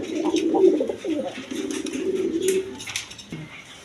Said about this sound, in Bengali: এখানে এক পেয়ার নাচ রানা কালদম কবুতর ধরেছে